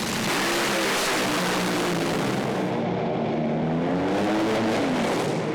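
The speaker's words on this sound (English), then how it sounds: "Great drag race" Two drag racing cars launch hard from the start line at over 500 km/h class speed, a loud, sustained engine roar with rising pitch sweeps filling the whole stretch, no voices.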